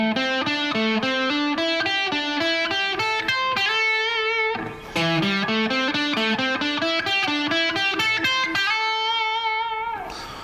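A distorted electric guitar plays a five-note grouping exercise slowly, with a steady stream of clear single notes climbing and falling in repeating patterns, loud and alone, with a brief pause near the middle before the run resumes.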